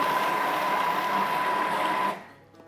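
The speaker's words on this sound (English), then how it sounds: "very technically, smush it all up in the Thermomix." A steady loud whirring of a Thermomix blending vegetables, continuous with a high whine, then cutting off near the end.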